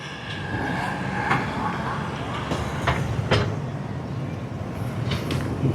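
A tourist tram passes along the Mekong riverside in Vientiane at dusk: a steady rolling rumble with occasional clanks and squeaks over outdoor street ambience.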